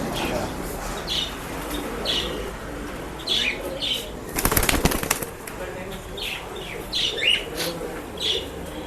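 Male pigeon released at a pet shop in Bangalore, a burst of close wing flapping midway amid faint chirps and background murmur.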